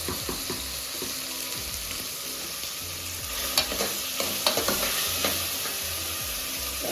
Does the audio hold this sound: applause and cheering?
no